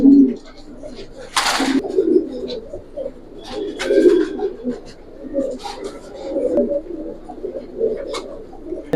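Giribaz pigeons coo softly in low, rolling bursts nearby, with a brief rustle of wings or handling and someone talking over them.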